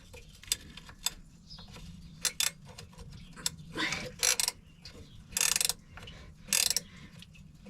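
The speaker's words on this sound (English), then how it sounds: "The stud's spinning with it. You're not taking the wrench far enough." A ratchet wrench clicks while the stud it is turning spins along with it, giving a few short, fairly quiet bursts of ratcheting spaced a second or so apart over a faint background hum, with no talking.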